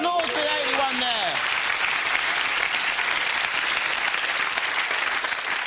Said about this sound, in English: round of applause for the 81 there